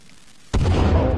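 A stick of dynamite blows up in the survival video game The Forest, a sudden loud, deep boom that cuts in after a quiet moment and rumbles on to the end of the clip.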